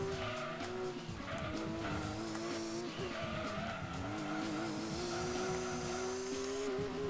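A race car in the video game Gran Turismo 2 roars steadily at high revs, its engine pitch rising and dipping through gear changes, with tires squealing and skidding through corners, loud and continuous with no talking.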